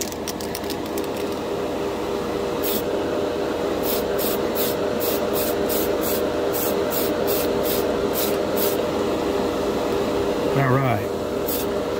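Tamiya PS12 silver polycarbonate spray paint hissing steadily from the can in a long continuous spray, with short, rhythmic pulses of spraying partway through and a brief voice near the end.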